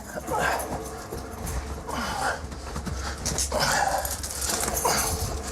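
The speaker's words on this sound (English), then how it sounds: "Yeah, growl all you want." A dog in a police custody scene with detained suspects makes low growls and panting breaths in repeated close bursts, with short pauses in between.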